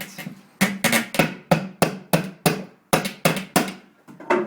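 A small hammer taps out a dent in a Ford Mustang SVT Cobra's metal body in a steady series of about a dozen sharp knocks, close and fairly quiet, with brief ringing after each strike.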